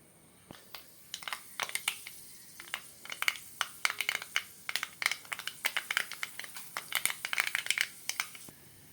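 Mustard seeds crackle and pop in hot oil in a pan, a dense run of sharp, quick snaps that build from sparse to rapid and then fade, close and alone without speech.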